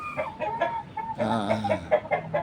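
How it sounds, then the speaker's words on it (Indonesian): Bangkok breed chickens clucking in a pen, a close run of uneven throaty clucks and squawks, some overlapping, with no talking. "yaitu ayam berjenis Bangkok"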